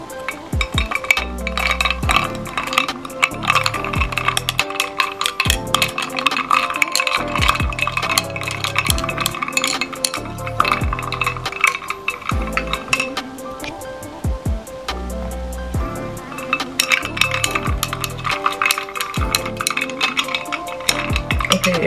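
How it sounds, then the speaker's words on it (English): A TikTok bloom mixture being stirred by hand in a container, a steady run of close scraping and clinking strokes with a regular rhythm that continues throughout without talk. "Just trying to mix it very well."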